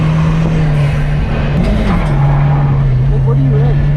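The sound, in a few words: car launching in second gear on race track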